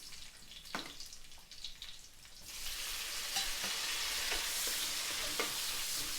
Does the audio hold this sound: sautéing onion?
yes